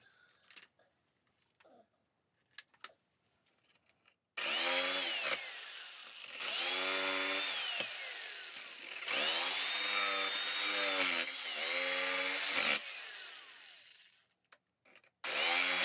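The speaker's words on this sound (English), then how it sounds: "I will take a jigsaw and actually try to hog out as much of the material as I can." A jigsaw cuts through wood in several long, loud bursts separated by short pauses, its harsh reciprocating buzz rising and falling close by.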